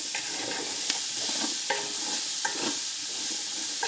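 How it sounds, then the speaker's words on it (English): Onions stew on a hot Blackstone griddle, giving a steady loud sizzle with light scraping strokes of a spatula stirring them, close and continuous with no talking. "And so I'm stewing some onions here."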